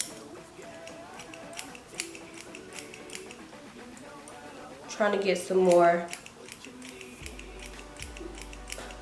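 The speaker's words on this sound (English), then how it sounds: "and then I like just going in with my scissors upwards" Quick, crisp snips of scissors cutting thin straight hair repeat in a steady series under a person talking, with a brief louder vocal swell midway.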